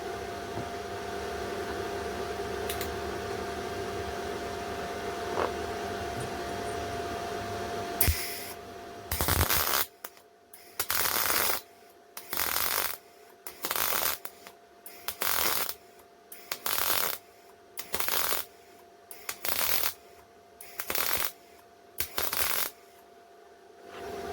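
Hitbox MT2000 inverter welder spot welding at a higher power setting, a string of short loud crackling buzzes of about a second each, evenly spaced with brief silences between, after a steadier hiss.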